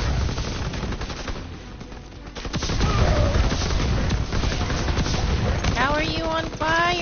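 Machine gun fire in the World War II shooter Call of Duty WWII, dense rapid bursts and booming impacts, loud and close, with a player's voice talking over the gunfire.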